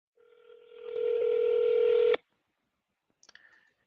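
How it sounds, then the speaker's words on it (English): A phone call goes out: a steady telephone tone sounds for about two seconds and stops abruptly, followed after a pause by a few faint short electronic beeps. "I'm actually calling the next one right now."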